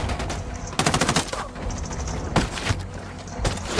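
Automatic gunfire in the video game Ghost Recon Wildlands: loud, dense rapid bursts repeat across the moment, with sharp cracks and ringing tails over a steady background bed.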